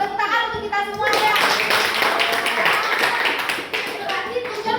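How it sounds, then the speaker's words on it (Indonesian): Students in a classroom break into loud, dense applause that swells after a short lead-in of voices and holds steady before tapering, with some children talking underneath. "Tepuk tangan untuk kita semua ya."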